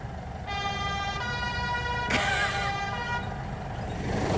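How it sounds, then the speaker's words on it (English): Air horn on a John Deere tractor, a loud sustained tonal blast with a second shifting honk partway through, heard against steady engine and outdoor noise, no talk. "Turns out air horns are a specification of John Deere tractors."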